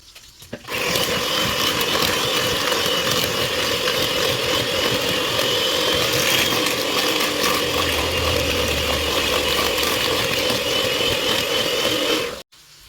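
An electric mixer blends cookie dough with brown and white sugar, giving off a steady, loud mechanical whir that runs unbroken for about twelve seconds before cutting off abruptly.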